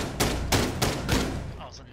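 Shotgun fire in a first-person video game: four loud, sharp blasts in quick, fairly even succession, about a third of a second apart, with a thick low boom behind each.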